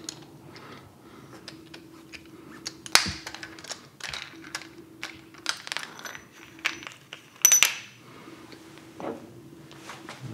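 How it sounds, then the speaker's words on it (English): A bearing extractor pulling a Shimano bottom bracket bearing from a Giant Defy bicycle frame, heard as a series of sharp metallic clicks, taps and ratcheting turns with a faint steady hum beneath, close by and without talk. "This is just using the same bearing extractor to get it out of the frame to try and pull"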